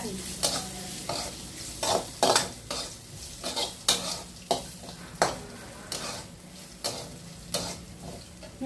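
Cluster beans fry in onion and goda masala in a pan, with a utensil scraping and stirring in a steady rhythm roughly twice a second over a continuous low sizzle.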